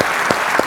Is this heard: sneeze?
no